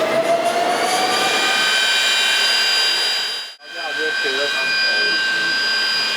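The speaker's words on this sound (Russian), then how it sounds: "Запустился мотор, да?" An engine at the energy centre of the Chechentsement cement plant runs after starting. It makes a steady turbine-like roar with sustained high whining tones, dips briefly to near silence partway through, then continues at the same level.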